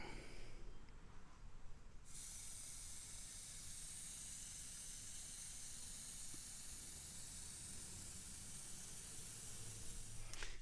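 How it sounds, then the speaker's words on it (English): Spray paint hisses steadily from a can for about eight seconds during a test squirt on a masked scooter being built as a GT40 tribute, following a brief quieter start. "let me do a test squirt here"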